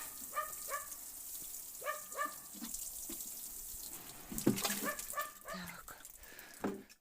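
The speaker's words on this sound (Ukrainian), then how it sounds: "І теж полью зараз отак. Візьму, пролью трошки." Water is poured onto a garden bed prepared for sowing early cabbage seedlings, a soft trickling splash heard close, while a dog barks repeatedly in the distance.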